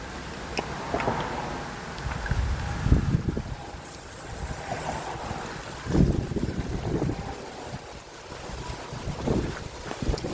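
Wind blowing outdoors beside a van, buffeting the microphone in loud, rough gusts that swell and fade across the recording, with no talk.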